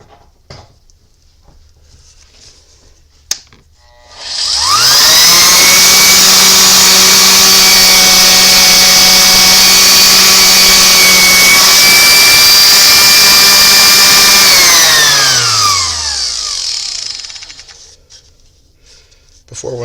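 A random orbital sander fitted with a new pad and sandpaper is switched on and spins up to a loud, steady high whine with a buzzing hum, holds for about ten seconds, then winds down as it is switched off.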